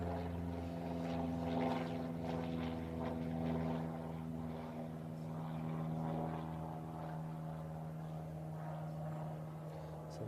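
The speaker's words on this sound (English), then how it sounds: "we've got a rather nuisance plane just flying overhead as I speak" Propeller plane droning steadily overhead across a golf course during an amateur championship semi-final, a continuous low engine hum with harmonic tones sustained throughout, no talk.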